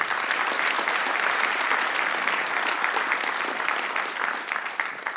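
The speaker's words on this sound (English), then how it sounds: "Give yourselves a round of applause." Steady, dense applause from a seated audience at a high school National Honor Society induction ceremony, many hands clapping together and loud throughout before thinning slightly at the end; no talk over it.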